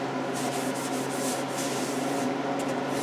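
Fine 800-grit sandpaper rubs over a repaired side crack on a guitar, smoothing away epoxy residue in a steady, close, continuous scratchy hiss with slight back-and-forth pulsing.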